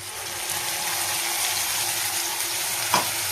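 Ground spice paste sizzles in hot oil with fried onions in a pan, a steady dense crackling hiss with a brief stir or clink near the end.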